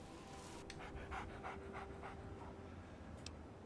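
Dogmeat, the dog companion in the video game Fallout 3, pants softly in a rapid rhythmic series of breaths that fade after a couple of seconds.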